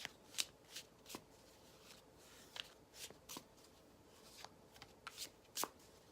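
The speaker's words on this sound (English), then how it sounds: "so I'm just going to shuffle." Tarot cards shuffled by hand in quiet, uneven bursts of soft flicks and riffles, close but faint, spaced irregularly over a hushed room.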